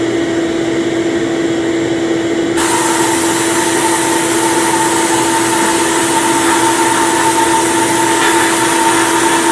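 Abrasive blaster blasting rust off metal: a loud, steady hiss starts abruptly and continues unbroken over an underlying compressor-like whine.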